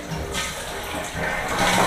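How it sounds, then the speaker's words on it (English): A Kohler toilet flushing after its water supply is shut off, a steady close rush of draining water with a slight swell toward the end. "Flush the toilet."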